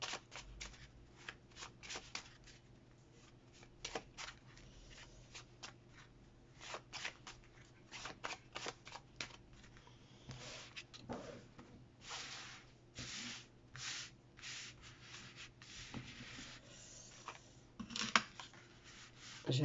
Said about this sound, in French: Je vais les mélanger.